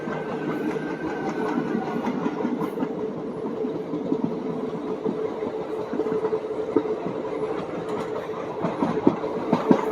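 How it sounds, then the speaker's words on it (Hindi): A Northern Railway local train rolls near on the Mathura–Delhi route, a steady loud rumble with rhythmic clickety-clack of wheels over rail joints throughout, growing slightly louder toward the end. "जाना कौन सी ट्रेन आ रही है, सामने से लोकल आ रही है।"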